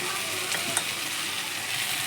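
Water spinach sizzles in a frying pan with a soft, even hiss, and a faint scrape of stirring comes through briefly.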